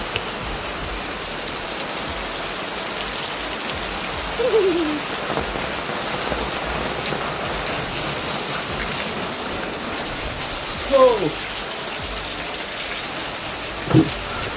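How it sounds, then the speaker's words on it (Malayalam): Heavy rain pours steadily at a hill resort in Munnar, a dense unbroken hiss, with a few brief louder sounds rising over it. "നല്ല കടുത്ത മഴ."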